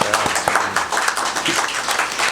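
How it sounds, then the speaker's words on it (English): A county commission meeting room fills with a brief, dense round of applause for the state's attorney, steady clapping from many hands throughout. "Let's give our state's attorney a round of applause"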